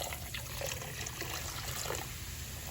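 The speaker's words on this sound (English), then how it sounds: "And then I go in with the vinegar" Vinegar poured over collard greens while cleaning them, a faint steady trickle of liquid against soft background hiss, with no speech.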